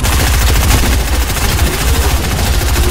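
Dense, loud rapid-fire gunfire from a shooter video game rattles continuously throughout, a relentless automatic burst with no pauses and no talking.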